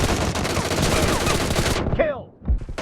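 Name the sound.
gunfire in the video game PUBG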